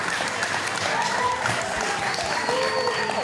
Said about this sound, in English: the NPCs in the background let out a roaring cheer